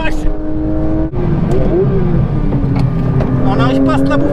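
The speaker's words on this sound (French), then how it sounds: "Et ce moteur là, ce moteur qui hurle à la mort derrière" A Porsche 992 GT3 RS engine screams on track at high speed, a loud sustained howl that dips briefly under braking and then climbs again, with a man exclaiming over it.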